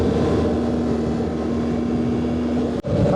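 Motorcycle cruising down a road in southern Florida near the Georgia line: a steady, loud engine drone with wind rush throughout, broken by a brief dip near the end, with no talking.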